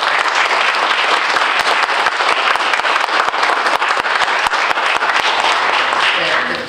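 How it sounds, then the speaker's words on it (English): Sustained applause fills a school committee meeting room, a steady dense patter of many hands with a few sharper individual claps standing out, loud and continuous before tapering at the very end. "So I think Dan deserves a little round of applause."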